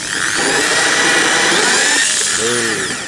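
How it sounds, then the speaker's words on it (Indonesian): A BITEC IDM 1370 RE-J hand drill whines steadily and loudly for a few seconds, a continuous high-pitched grinding with a brief shift in tone near the end. "sekarang di sini saya coba bor"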